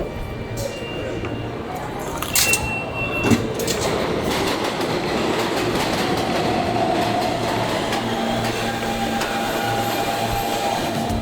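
A New York City subway train rides with a loud, steady rumble and rattle, clacks and squeals rising over the constant roar, with voices faintly under it.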